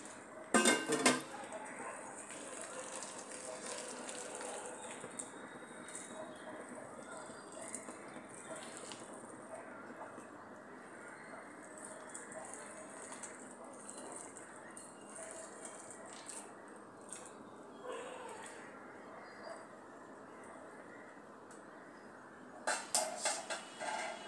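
Dry spices including asafoetida are stirred into ingredients in a bowl, giving a steady scraping and rustling with a few sharp clinks of a utensil at the start and near the end.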